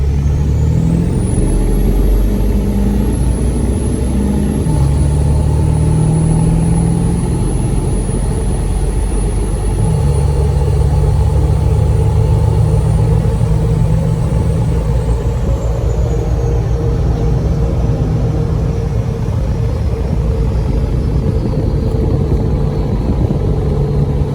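A 2003 truck with a 7.3 diesel engine pulls hard up a freeway grade, its heavy, droning engine note loud and continuous, with pitch steps suggesting gear changes partway through and no voices.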